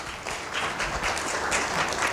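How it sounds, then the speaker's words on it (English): Applause from an audience greeting a presenter at a corporate event, a steady even wash of clapping lasting a couple of seconds with no voices over it. "please give a round of applause to Executive Head of Cloud and Cybersecurity, Munyaradzi Choto"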